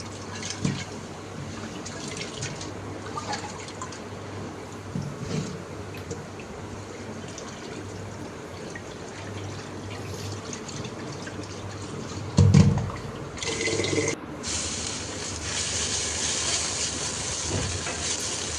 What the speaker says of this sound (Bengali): এদিকে চাল ধুয়ে রাখছি, ভিজিয়ে রাখছিলাম, চালটা ধুয়ে নিচ্ছি